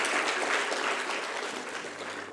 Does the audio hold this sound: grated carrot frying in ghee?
no